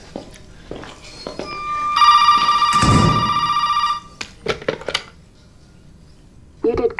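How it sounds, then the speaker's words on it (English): A telephone rings in the Resident Evil 7 video game, a loud electronic bell tone sounding for about two seconds amid scattered clicks and footsteps, with a short voice near the end. "Pick up the phone."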